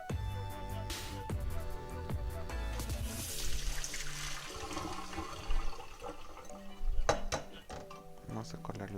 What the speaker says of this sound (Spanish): La apagamos y ahora vamos a colar el agua.